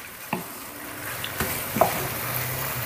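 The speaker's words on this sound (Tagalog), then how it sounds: "So, halu-haluin lang natin." Pork frying in a pan while being stirred: a soft, low background sizzle broken by a few scattered scrapes and clicks of the utensil against the pan.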